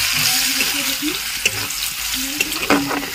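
Chopped onions sizzling and browning in a pan, with a steady frying hiss under clanks and scrapes of stirring close by.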